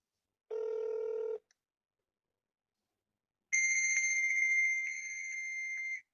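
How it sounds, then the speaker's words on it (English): A fax machine tone answers a phone call: a short steady electronic tone, a pause, then a longer bright warbling, multi-pitched screech that carries on alone until the end, with no voices. "That sounds like a fax machine, man."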